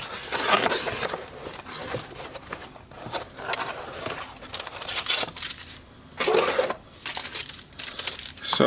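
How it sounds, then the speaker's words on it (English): Cooking tin foil crinkles and tears as it is unwrapped from a Sweet Micro Systems Trump Card, a Zilog Z8000 coprocessor card for the IBM PC. Loud, close crumpling comes in irregular bursts with brief pauses, with no talking. "So the previous owner has wrapped it up, I think, in tin foil. It's like cooking tin foil."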